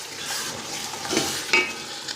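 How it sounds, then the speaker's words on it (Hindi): A spoon turns biryani masala and chicken in a pot, giving a steady soft sizzle with scraping stirs and a brief brighter clink, close and continuous with no talk. "अब इसको अच्छी तरह मिक्स कर लेंगे हम।"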